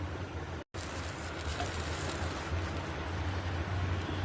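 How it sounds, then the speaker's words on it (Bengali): Bread slices frying in a pan give a steady soft sizzle and patter, close and low in level, broken once by a brief dropout near the start, with no talking. "আর এখানে ব্রেড স্লাইসগুলো একটু ভেজে নিচ্ছি"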